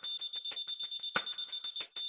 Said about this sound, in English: a beep sounds when you find the correct level